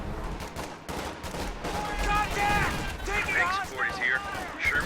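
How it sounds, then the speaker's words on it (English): A Stuka dive-bomber artillery barrage in the Company of Heroes 2 game, a dense run of booming gunfire and explosions under an excited commentator's voice, with whistling shells near the end. "In comes a Stuka barrage right here."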